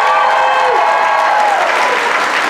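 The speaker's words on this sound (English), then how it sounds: "can we have a round of applause for this first part of the panel" Audience applause at a Baldur's Gate 3 cast panel, a steady wash of clapping from a crowd that holds at even loudness for the whole stretch, with no talk over it.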